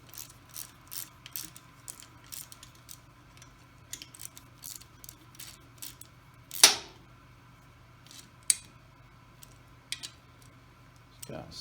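Bolts being snugged down in a crisscross pattern on an electric motor housing during a bearing replacement, heard as a run of quick ratchet clicks with a couple of sharper metallic clacks, close and fairly quiet, with faint voice in the background.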